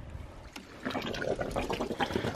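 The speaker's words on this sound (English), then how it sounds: "So let's go ahead and fill this back up with water." Water pours and trickles into a ram pump drive pipe, starting faint then rising to a steady, moderately loud gurgling rush that continues without pause.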